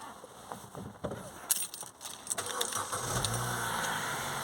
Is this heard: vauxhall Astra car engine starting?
yes